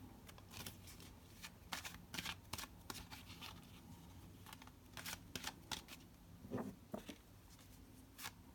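Tarot cards are shuffled by hand, a soft continuous riffling and flicking with sharper snaps here and there, quiet and close, with no talking.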